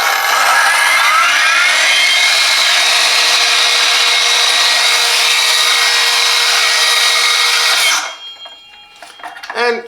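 A Parkside PPTSA 20 Li A1 cordless plunge saw spins its blade freely, a loud, continuous high whine held steady for about eight seconds before cutting off and winding down, with faint clatter afterward.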